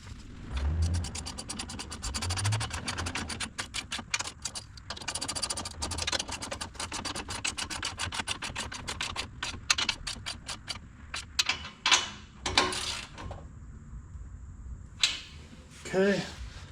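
A ratcheting 15 mm wrench snugs down the clamps on an RR Racing exhaust on a Lexus IS500, starting at the X-pipe. It gives bursts of rapid, close metallic clicks with short pauses between runs.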